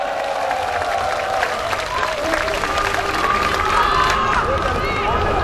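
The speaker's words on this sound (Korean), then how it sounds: "다시 한번 큰 박수 부탁드리겠습니다." A large crowd at a political candlelight rally applauds and cheers outdoors, a steady, dense wash of clapping that swells toward the end, with voices in the mix.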